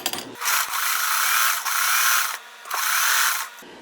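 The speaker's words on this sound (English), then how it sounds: "And I'm going to sew." A sewing machine stitching quilt pieces runs loud and close in three steady whirring bursts separated by short pauses, with a faint mechanical hum.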